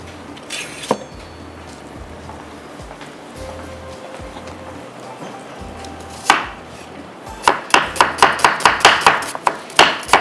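A knife chops a small onion on a board, first with scattered knocks, then with a quick run of sharp, close, evenly spaced strokes near the end.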